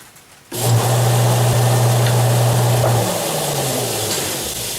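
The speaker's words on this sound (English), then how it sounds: "The lathe's right now at 340 RPMs." A wood lathe spins a spalted mango vase blank at 340 RPM, giving a steady motor hum with a strong low tone that starts abruptly and runs continuously, easing slightly toward the end.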